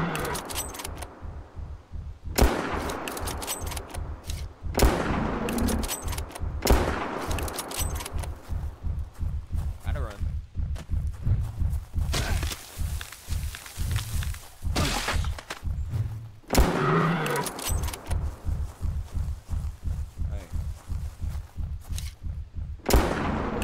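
Repeated gunshots in the Prehistoric Hunt video game while hunting a Triceratops, loud sharp cracks in a steady rhythm across the whole stretch, with short pauses that fit reloading and no talk.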